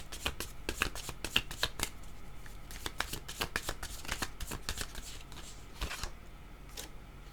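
Oracle cards being shuffled, a steady run of soft riffling flicks up close and fairly quiet, with a faint low background hum.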